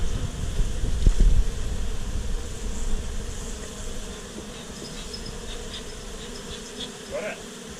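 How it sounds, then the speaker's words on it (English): A dense, steady buzz of a honeybee swarm nearby, strongest early on then settling to a lower hum, with faint rustling handling noise. "there are a whole lot of bees that are still swarming around trying to find it"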